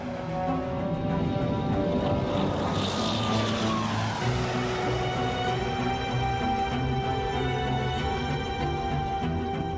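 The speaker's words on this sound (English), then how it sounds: "Both planes take off into a stormy sky." Propeller planes take off into a stormy sky, a loud continuous engine roar that swells and shifts in pitch as they accelerate, filling the whole stretch with no voices.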